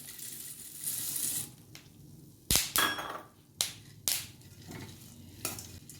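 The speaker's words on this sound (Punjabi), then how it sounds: "ਬੀਜ ਭੁੱਜ ਗਿਆ ਤੜਕਣ ਦੀ ਆਵਾਜ਼ ਹੀ ਆ ਰਹੀ ਹੈ" Seeds roasting in a pan while dry fruit laddus are made, heard as soft crackling and frying hiss broken by several sharp, distinct pops and clinks of stirring at uneven intervals, close and without talk.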